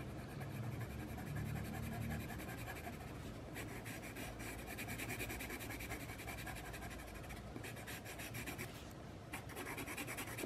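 A Caran d'Ache watercolour pencil colours on white paper with soft, faint, continuous scratchy rubbing strokes close by.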